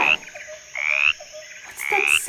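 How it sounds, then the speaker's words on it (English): A frog croaking in a jungle soundscape, three loud, close, even calls spaced at regular intervals, each a short rising trill, with no talk. "It's a frog. Yes, a frog."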